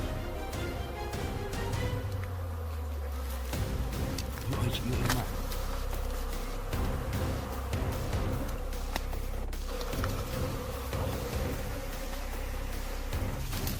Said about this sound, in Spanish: encienden un pequeño fuego y utilizan el humo para alejar a las abejas